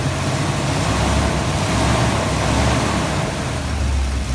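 A 1986 GMC truck engine runs steadily with a deep, even low rumble, close and continuous with no squeal, and no voices over it.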